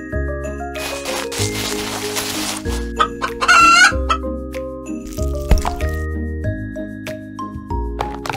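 Chickens cluck in a coop, with a rooster crowing among them, the calls close and fairly loud against steady tonal background music throughout.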